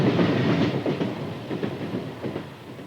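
A Union Pacific Challenger steam train descends Sherman Hill toward the plains of Laramie, giving a continuous rumbling roll with a rhythmic clickety-clack of wheels over rail joints, heard from a moderate distance.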